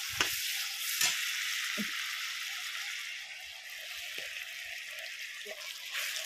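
Pigeon meat frying in a pan, a steady broadband sizzle running throughout, with a few sharp scraping stirs of a utensil against the pan; no one speaks.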